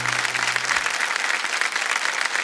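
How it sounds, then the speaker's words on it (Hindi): Loud, dense applause from a studio audience on a televised quiz show sustains steadily throughout, close and full, with no talking over it. "एक बार जोरदार तालियां बज जाएं आपके लिए।"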